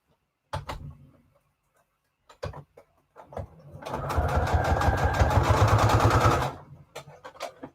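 A sewing machine stitches Christmas embellishments: a few handling clicks and thumps first, then a close, steady whirring run of about three seconds before it stops, followed by more light handling.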